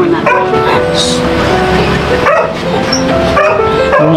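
A dog barks and yips in loud, repeated short bursts with whimpering notes between them, close by, over a busy background of other sounds.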